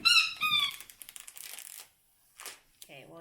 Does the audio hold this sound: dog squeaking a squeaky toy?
yes